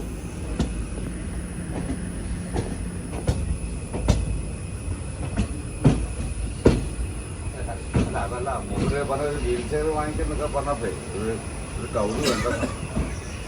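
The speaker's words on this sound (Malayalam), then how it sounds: "തലശ്ശേരി റെയിൽവേ സ്റ്റേഷനിലേക്ക് ഇതാ നമ്മുടെ ട്രെയിൻ എത്തിക്കൊണ്ടിരിക്കുകയാണ്" A train rolls into Thalassery railway station with rhythmic wheel clatter, sharp clicks over the rail joints and a brief squeal, while people talk and murmur on the platform.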